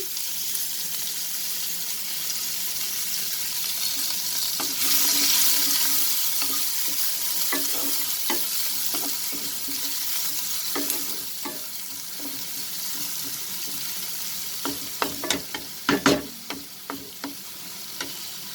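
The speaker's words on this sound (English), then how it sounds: "And now I will add this chopped onion." Chopped onion frying in oil with cumin seeds and asafoetida for chana dal fry, a strong continuous sizzle that swells as the onion goes in, followed by repeated spatula scrapes and knocks against the pan.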